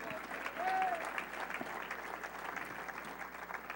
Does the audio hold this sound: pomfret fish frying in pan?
no